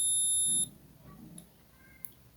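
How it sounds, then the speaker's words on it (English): A short, steady electronic beep from a multimeter on continuity test across a capacitor on a mobile phone circuit board cuts off abruptly, followed by quiet handling noises and a faint brief tone. "You see, it is beeping on one side, but the other side is not beeping."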